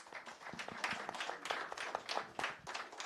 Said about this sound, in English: Ladies and gentlemen, please give my panel a warm round of applause